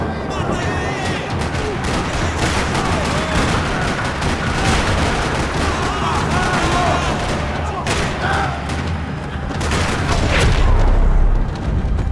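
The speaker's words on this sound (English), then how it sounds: "Another parking lot rattling with gunfire" Sustained gunfire rattles through a parking lot in the Max Payne 3 video game, with rapid overlapping shots and heavy booms that swell louder near the end.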